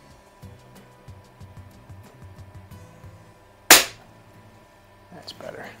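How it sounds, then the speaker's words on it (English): A pellet gun fires once, one sharp, loud crack midway through, standing out against a quiet background with faint low rumbling and soft noises before and after. "I don't think I've ever tried shooting a pellet backwards."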